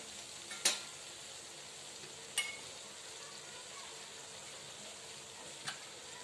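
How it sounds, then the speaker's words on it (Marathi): Masala with turmeric, green chillies and spring onion greens fries in oil, a faint, steady sizzle with a few soft clinks of a utensil against the pan. "आपला मसाला बघा इतका छान तेलात परतले गेला आहे"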